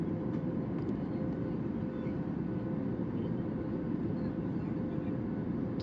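Steady low roar of a passenger airplane cabin in flight, banking into a turn shortly after takeoff on a night flight toward Mumbai, constant and unbroken for the whole stretch.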